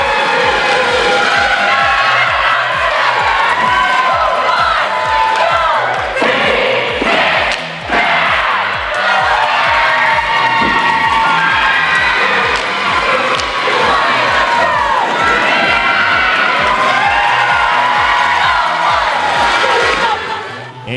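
Loud, sustained crowd cheering and shouting at a Michigan high school competition, with excited young voices whooping steadily throughout and a brief dip partway through.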